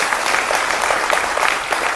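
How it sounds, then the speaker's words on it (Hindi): An audience claps steadily and densely, a close, even burst of applause lasting a couple of seconds with no voices over it. "एक बार उनके लिए भी तालियां हो जाए"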